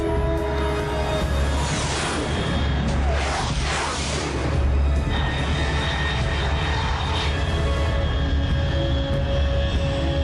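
A fast jet aircraft passing overhead in Metal Gear Solid 3, a steady loud engine roar with a rushing swell in the middle, sustained over several seconds with continuous low rumble.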